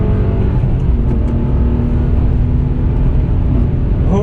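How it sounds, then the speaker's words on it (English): An Infiniti G37S with an open differential, driven on a race track, gives a loud, constant engine roar from inside the cabin, with a faint whine riding over the rumble throughout and no talking. "Oh yeah, that open differential singing"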